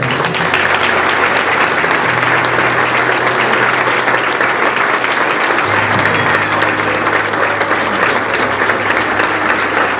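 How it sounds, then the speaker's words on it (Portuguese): Loud, dense applause from a church congregation during a worship service, many hands clapping hard and continuously at full strength throughout, close with a faint low hum underneath. "Aplaude ao Senhor bem forte."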